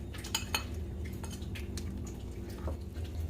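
Spices such as black pepper, chaat masala, red chilli and cumin powder being mixed into chicken in a bowl for murgh musallam, heard as close scraping and clinking of a spoon against the bowl in irregular strokes.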